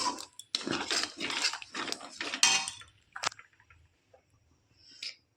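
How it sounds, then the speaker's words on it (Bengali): Boiled mango and water are stirred in a pot for mango chutney, producing a run of rhythmic scraping and clinking strokes with a spoon against the metal, then a few isolated knocks as it trails off. "জলটা দিয়ে একটু নেড়ে চেড়ে মিশিয়ে নেব।"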